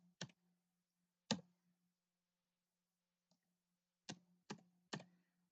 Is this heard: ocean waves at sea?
no